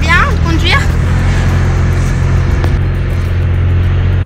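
A car being driven, its steady loud engine and road rumble filling the interior throughout, with a voice speaking briefly over it at the start before the drone continues alone and cuts off at the end.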